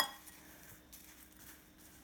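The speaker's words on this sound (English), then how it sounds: "I'm going to stir this all up just so all the ingredients are spread evenly" A spoon stirs oatmeal and cacao powder in a pot with soft, faint scraping and light clinks against the metal, a few gentle taps spread over a couple of seconds.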